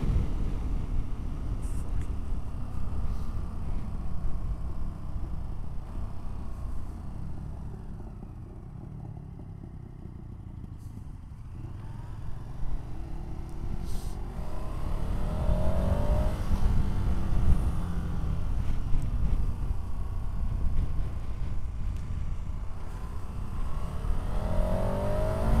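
A KTM 1290 Super Adventure S motorcycle engine pulls and revs up continuously while riding along a road, loud and steady with a dip in the middle before building again, heard from the rider's position without talk.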